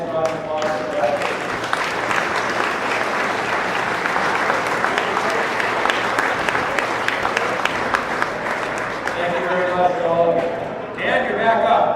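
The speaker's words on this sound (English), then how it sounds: "I'll have a nice round of applause for that" A crowd at an appreciation dinner gives the board of directors a full round of applause, dense and steady for the whole stretch, with voices rising near the end.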